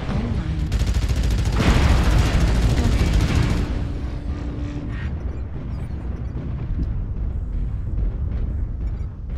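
Artillery explosions in a combat video game, a heavy booming barrage with rumbling blasts and crackling fire loudest early, then easing into scattered distant thuds and rumble.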